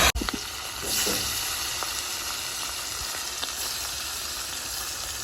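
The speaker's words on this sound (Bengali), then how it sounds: "আমার এই সুন্দর মাছের পিসটা এবার আমি তেলে দিয়ে দিলাম" A piece of rui fish goes into hot oil in a wok with a sharp crackling splash, then settles into a steady, close sizzle that keeps going at an even level.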